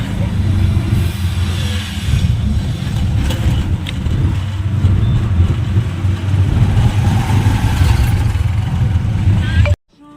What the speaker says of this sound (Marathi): गाडी चालवत आहे बाबूचा